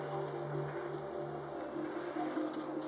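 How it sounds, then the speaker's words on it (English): Birds chirp and twitter softly at Rancho Naturalista in Costa Rica, a few thin high calls over steady low forest hum. "Sometimes it's nice to let the birds come to you."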